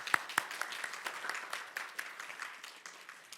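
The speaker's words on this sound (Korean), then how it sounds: "박수 한번 주실까요?" An audience at a fashion-industry talk concert in Seoul applauding, with a moderate, steady patter of many hands heard from a distance and fading slightly toward the end.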